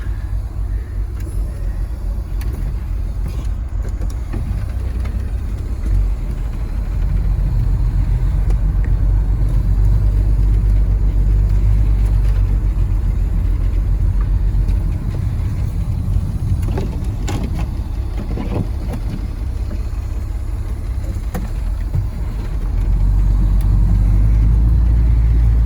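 A snow plow truck's engine runs steadily at idle after being brought down from high idle, a continuous loud low rumble that holds throughout with slight swells in level.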